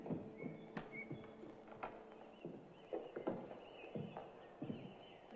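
Horse hooves clip-clop at an unhurried walking pace, faint and somewhat distant, with irregular knocks and a soft background hum.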